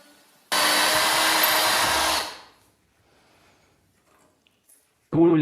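Chinese 2-in-1 drill running steadily while tapping a thread, a loud continuous whine lasting about two seconds before winding down, followed by quiet and a brief burst of talk at the end.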